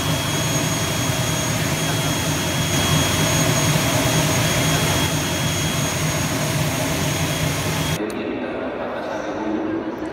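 Steady, loud engine roar inside a small Wings Air passenger plane, with faint talk beneath. The roar holds for about eight seconds, then drops sharply to a quieter hum.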